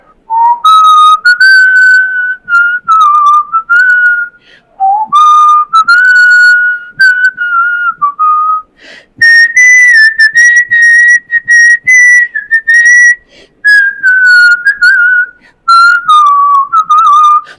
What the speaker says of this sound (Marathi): मी शिट्टीतून गाणं म्हणून दाखवणार.